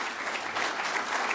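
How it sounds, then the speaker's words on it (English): Audience applause at an academic honor society induction ceremony, a steady dense wash of clapping from a seated crowd that holds even for about a second and a half with no voices over it. "I wasn't going for the applause"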